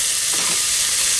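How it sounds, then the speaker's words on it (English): Spring onions frying in a hot pan for a crab stir fry, a loud, continuous close-up sizzle with a faint stirring scrape. "And I'm going to fry these for a couple of minutes"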